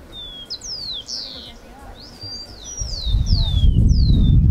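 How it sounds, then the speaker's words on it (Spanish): Birds sing with clear, high chirps and downward-sliding whistles, repeated throughout, while a low rumbling noise rises toward the end. "Ahí pueden escuchar el canto de los pájaros."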